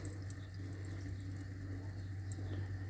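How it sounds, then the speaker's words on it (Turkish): Andız herb is rinsed under a gently running kitchen tap, a steady, close hiss of flowing water into a sink with a constant low hum beneath. "hafif bir çeşmede birkaç sefer duruluyoruz"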